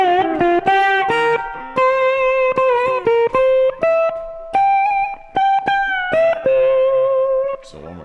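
A distorted electric guitar plays a blues lick from a song slowly, as a clear sequence of separate plucked notes and short bends with brief gaps between phrases.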